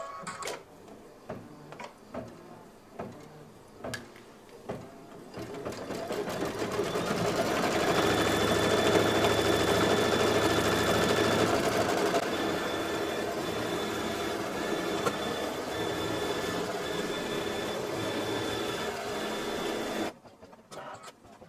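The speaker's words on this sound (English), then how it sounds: "I'm going to cut this jump thread and let it do its final stitch." Sewing machine running steadily as it stitches the final stitch on a quilt block, a continuous loud mechanical whir after a few scattered clicks and thumps, ending abruptly.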